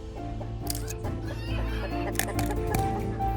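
Hens kept in small cages on an egg factory farm cluck and squawk continuously, a dense chorus of many birds under a steady mechanical hum.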